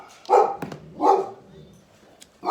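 Puppies bark in short excited bursts, three loud yaps spaced about a second apart with a faint whimper between, reacting to a squirrel indoors; a voice is briefly heard.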